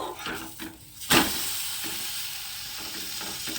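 A vegetarian oats roll fries in a pan with a constant soft sizzle. A sharp clatter and scrape comes early, as though it is being turned, with no voices.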